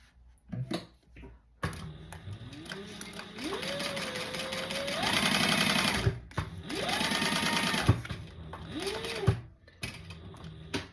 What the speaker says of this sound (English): I do my basting stitch of foam like this at a stitch length of a